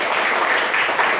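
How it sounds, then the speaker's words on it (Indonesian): A classroom of students applauding together, a steady wash of many hands clapping at once with no pauses, fairly loud and close, lasting just over a second with no talk. "Tepuk tangan dulu ya"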